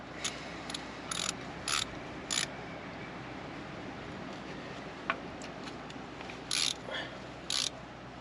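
A hand ratchet tightens bolts on the valve cover of a Cat 302.5 mini excavator, giving several short bursts of crisp clicking spaced between pauses over a steady background hum.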